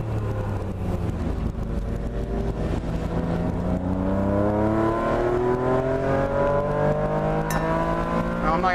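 A car circles the track at Atlanta Motorsports Park with a loud, steady engine drone, close up, its pitch rising and falling through gear changes, with wind rush throughout.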